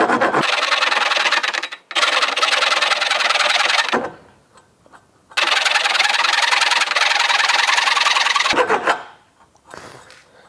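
A saw rasp files a 2 mm walled box aluminium section in two long bursts of loud, rough, rhythmic rasping strokes, each lasting several seconds, separated by quiet pauses with faint handling noise.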